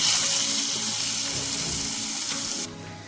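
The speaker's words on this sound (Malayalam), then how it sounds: "കടുക് ഒന്ന് പൊട്ടിയതിന് ശേഷം നമുക്ക് വറ്റൽമുളക് ചേർത്ത് കൊടുക്കാം" Mustard seeds and dried red chillies sizzle and crackle steadily in hot coconut oil, a loud, bright hiss that cuts out abruptly near the end.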